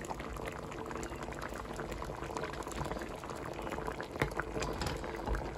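Ginataang saging with sweet potato and jackfruit bubbling at a steady boil in a pot, a dense continuous rolling simmer heard up close with no talk.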